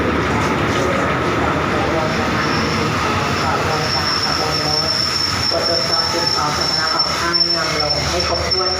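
An express train at a Thai railway station produces a loud, constant rumble with a thin, high wheel squeal running through the middle, while people talk nearby.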